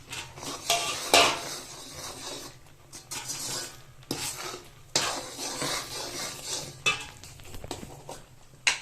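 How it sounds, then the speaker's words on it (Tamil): Gram flour mixture for Mysore pak being stirred in a pan, with a spoon repeatedly scraping and clinking against the metal under a soft sizzle, in irregular close strokes with no talking. "கடலை மாவுலாம் கட்டி விடாம கலரணும், கட்டி வராம கலரணும்"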